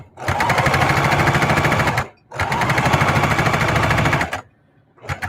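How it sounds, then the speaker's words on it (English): Sewing machine stitching a quarter-inch seam on a collage tote bag, running in two long steady bursts of rapid needle chatter separated by a short pause, with the start of a third run at the end. "I'm going back the other way, another 1/4 inch seam"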